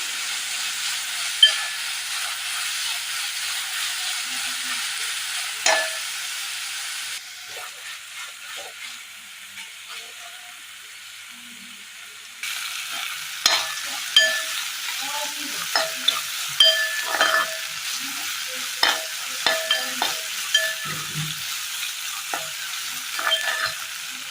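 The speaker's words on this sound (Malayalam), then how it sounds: "അല്പം വെളിച്ചെണ്ണ കൂടി ഒഴിച്ചു കൊടുത്തിട്ടുണ്ട്. ഇനി നന്നായി ഇതൊന്ന് വഴറ്റിയെടുക്കണം." Shrimp with tomato sautéing in coconut oil in a pan, a steady sizzle and hiss broken by frequent scraping stirs and clinks of a spoon, with one quieter stretch in the middle.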